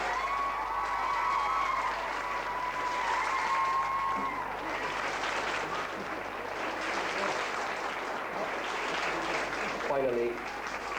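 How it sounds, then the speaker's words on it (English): Sustained applause fills a hall at a community games event for under-10s, steady clapping from a large crowd with a few cheers and children's shouts mixed in, voices faintly audible underneath. "I think the two of them deserve a big round of applause also."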